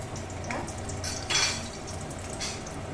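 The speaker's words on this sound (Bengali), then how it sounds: "এরকম খুন্তি দিয়ে এটাকে একটু ছড়িয়ে দিচ্ছি" Eggplant slices fry in a pan as a metal spatula spreads them out, with a soft continuous sizzle and a few light scrapes and clicks of the spatula at close range.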